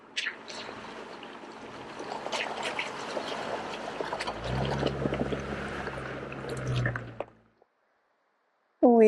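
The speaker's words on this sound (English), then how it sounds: "Oh boy, we get an actual water crossing." Off-road overlanding vehicle crossing a creek on an alpine trail in southern Colorado, water sloshing and splashing around the tyres over a low engine rumble, ending in a sudden silence.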